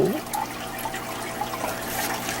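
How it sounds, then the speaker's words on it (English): Liquid squeezed from a plastic bottle splashes and trickles into a small dosing cup, a steady close pouring wash lasting a couple of seconds. "you would simply squeeze the bottle like this, and then it empties into there as so"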